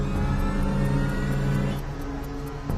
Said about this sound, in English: In preparation for takeoff, the pilots restart the 3rd engine